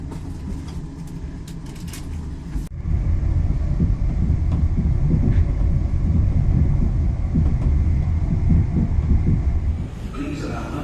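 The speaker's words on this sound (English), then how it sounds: "Welcome aboard the South Western Railway service to London Waterloo." Interior of a South Western Railway train bound for London Waterloo: a low, steady rolling rumble of the carriage in motion, preceded by a quieter stretch before a sudden shift to louder running noise, with faint talk underneath.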